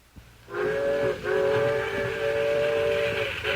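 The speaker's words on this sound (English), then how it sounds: "do you hear that whistle?" A steam train whistle blows a long, steady chord, briefly dipping before sounding again, loud and close over a hissing background.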